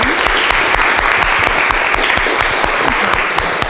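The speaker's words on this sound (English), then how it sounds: "If we could just give a round of applause to both of them." A round of applause for two speakers closes a political debate on the 2014 Budget, a steady dense crackle of many hands clapping, loud and close, with no break across the clip.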